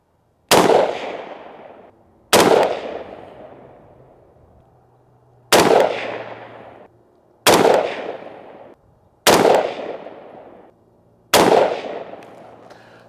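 Six loud, widely spaced rifle shots at an outdoor range from a Mitchell Defense GWOT Doc rifle, each a sharp close crack followed by a long fading echo.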